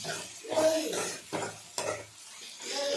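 Brinjal pieces are sautéed with turmeric and masala in a pan. A steady sizzle sits under repeated scraping strokes of a spoon stirring the pan, close and moderately loud.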